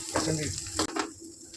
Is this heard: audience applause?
no